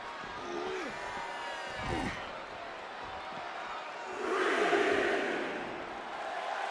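An arena crowd roars and cheers in WWE 2K24 during a WrestleMania 2 match between Adrian Adonis and Uncle Elmer, swelling louder toward the end, with some chatter mixed in.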